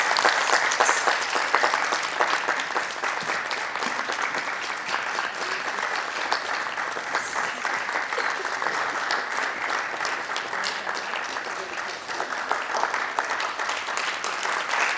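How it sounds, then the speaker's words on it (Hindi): Sustained audience applause at a Kathak group dance performance as an honoree is welcomed on stage, dense and steady for about fifteen seconds with no talking. "आप लोग सब भी जोरदार तालियों से उनका स्वागत करें"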